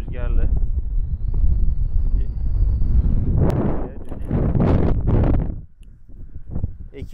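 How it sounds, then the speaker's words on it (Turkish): Strong wind buffets the microphone in loud, rumbling gusts that rise and fall during a pike fishing tournament, with a voice speaking partway through. "Bayağı rüzgarlı."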